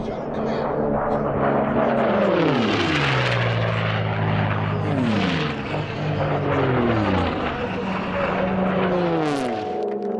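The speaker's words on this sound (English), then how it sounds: "They come from worldwide just to hear the sounds of a highly tuned Mustang on this closed course." A highly tuned P-51 Mustang racing plane roars past on a closed course at the 2016 STIHL National Championship Air Races. Its loud propeller-engine drone rises and falls in Doppler sweeps over several passes.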